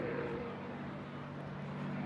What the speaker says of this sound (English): Here, though, we're concentrating on the P-51.